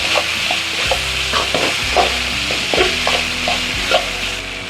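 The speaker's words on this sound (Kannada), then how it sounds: "ಟೊಮೊಟೊ ಹಣ್ಣು ಅದ್ರ ಜೊತೆಗೆ ರೋಸ್ಟ್ ಆಗ್ತಾರೆ." Tomato and vegetables roast and fry in a pan for upma, a steady sizzle with repeated rhythmic scraping and clacking of a spoon stirring, close and fairly loud, with no talking.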